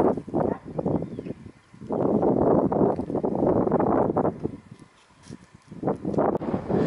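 Heavy wind on Llanddwyn Island buffets the microphone in loud, rumbling gusts, easing briefly in a couple of places before surging back.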